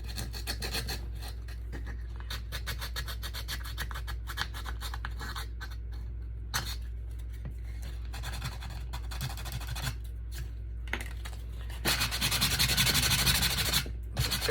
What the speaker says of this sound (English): Go back with your sandpaper and clean it up a little bit.